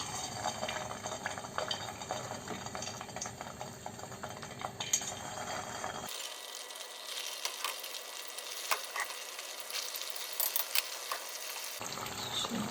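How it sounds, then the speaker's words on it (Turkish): Continuous sizzling and bubbling of stuffed bulgur meatballs (içli köfte) deep frying in hot oil, a steady crackling hiss with occasional louder pops. "Yağ ısınınca kızartmaya başlayacağım."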